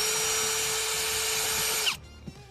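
A power drill spins out a 7mm bolt on the driver's side of a Silverado dash, a steady loud high whir that cuts off abruptly near the end, followed by a small clack.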